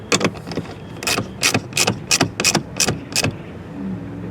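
Ratcheting clicks from a wrench tightening bolts on a front license plate bracket of a 2024 Infiniti Q50 Luxe, in about eight short close bursts with brief pauses, alone without talk.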